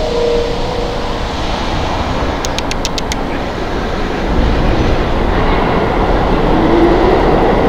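An R train on the New York subway pulls out of Woodhaven Boulevard station on the Manhattan-bound track, a loud, steady rumble of wheels and motors that swells slightly as it departs, with a brief burst of high clicking partway through.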